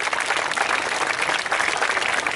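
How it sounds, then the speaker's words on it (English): Outdoor crowd at a falconry display at a steam fair giving a brief warm-up round of clapping, dense and fairly loud, sustained evenly with no talking over it. "Give her a little warm-up clap, guys, get her in a good mood."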